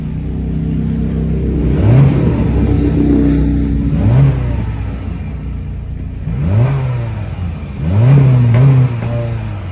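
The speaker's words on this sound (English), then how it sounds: "that was the sound of the 2-liter naturally aspirated four cylinder sold by Honda for the 2025" The 2025 Honda HR-V's 2-liter naturally aspirated four-cylinder idles steadily up close, with four quick revs that rise and fall back to a smooth, humming idle between them.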